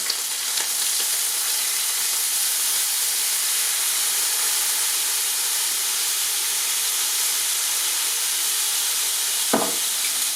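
Bream fillet fries in a hot pan with lemon zest, cracked pepper and a splash of wine, giving a steady, close sizzle that holds evenly throughout, with one brief clatter near the end.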